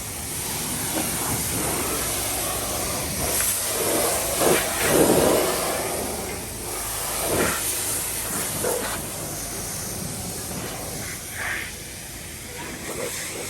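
A pressure washer sprays water over a 2022 Isuzu pickup to blast off dust before washing, a steady broad hiss that swells in bursts, with faint voices in the background.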